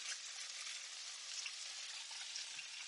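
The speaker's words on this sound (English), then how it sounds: "Stir my rye berries." Rye berries fry in a pan while being stirred, giving a quiet, even hiss of sizzling with only faint crackles throughout and no voices.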